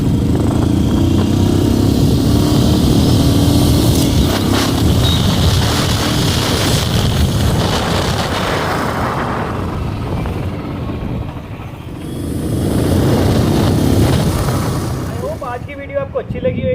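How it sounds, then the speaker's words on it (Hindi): A Royal Enfield Standard 350 BS6 accelerating hard from standstill toward 60, its engine roar climbing and easing through gear changes, loud and close amid wind rush, then quieting near the end. "अब मैं आपको इसका 0 to 60 की जो स्पीड रहेगी वो टेस्ट कराता हूँ।"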